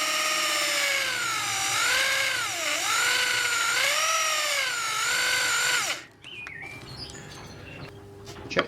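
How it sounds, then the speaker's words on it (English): A drill bores through plywood with a loud, wavering whine that rises and dips for several seconds, then stops, leaving faint birdsong in the background. "Turn the plywood over and then drill through the whole piece."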